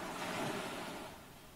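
Gentle sea waves wash steadily onto the shore in a continuous soft rushing surf, easing slightly toward the end, with no voices.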